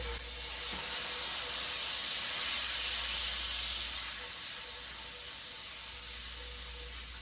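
Garlic sizzles after being added to a hot skillet of melted butter, a steady broad hiss that swells early and then holds at a slightly lower level, close and continuous with no talking.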